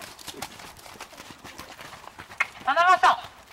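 A horse canters through a dressage lesson on flying lead changes at a riding school in Cherbourg. Its hooves beat in a soft, rhythmic clip-clop under a riding instructor's near, continuous spoken coaching.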